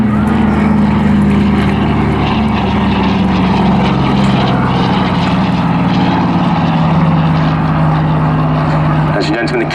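Propeller aircraft of the Battle of Britain Memorial Flight displaying at Southport Airshow, a loud continuous engine drone holding steady throughout, with a voice talking over it.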